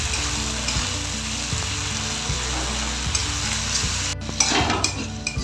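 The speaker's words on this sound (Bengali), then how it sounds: "এবার এগুলোকে ভালো করে আমি ভেজে নেব।" Tomatoes and whole green chillies frying in a pan, a loud, even sizzle with a regular low pulsing hum beneath, then a sudden burst of scraping and clatter near the end; no one speaks.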